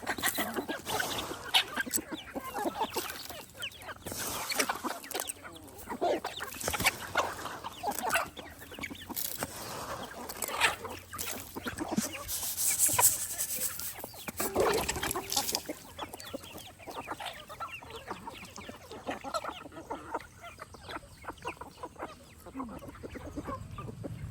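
Chickens cluck intermittently in a forest, moderately distant and fairly faint, among scattered rustling and outdoor background noise, with no talking.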